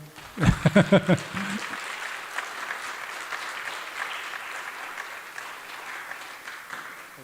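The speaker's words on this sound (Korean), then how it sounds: "여러분 박수로 한번" Church congregation at a testimony service applauds to welcome a pastor's wife, the clapping steady and moderate after a few loud close claps from a nearby voice at the start, then fading slightly toward the end.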